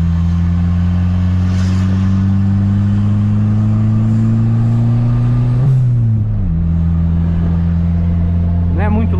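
An old, boxy turbocharged car with a 200-horsepower engine holds a loud, steady rev, then the pitch dips and settles into a lower hum, close by and continuous.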